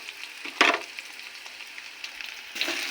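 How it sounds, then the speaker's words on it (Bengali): Ginger paste with chilli and garlic paste frying in a pan for a potato dum, a soft steady sizzle with a louder burst as the paste goes in and another surge near the end. "কিছুটা ভেজে নেব দিয়ে দেবো আদা বাটা লঙ্কা রসুন বাটা"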